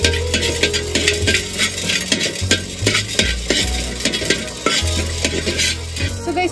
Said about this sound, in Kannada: ನೆಕ್ಸ್ಟ್ ಬಂದ್ಬಿಟ್ಟು ಜೀರಿಗೆ ಮೆಣಸು, ಇದು ಸುಮ್ಮನೆ ಲೈಟಾಗಿ ಬಿಸಿ ಮಾಡ್ಕೊಳ್ಳಿ ಸಾಕು